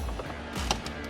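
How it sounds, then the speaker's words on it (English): A small hand ratchet works a bolt on a Jeep tweeter mount, giving a short run of quick, faint clicking strokes at close range. "So now I'm gonna grab my little ratchet and I'm gonna start"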